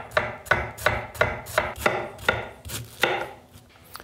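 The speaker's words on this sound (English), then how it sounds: "Basically, you're shaving off the edges of the white cabbage." A Forge Santoku knife slices thin shavings off white cabbage on a board, giving a steady run of about ten crisp, evenly spaced chops. They ring out close and clear with no talking.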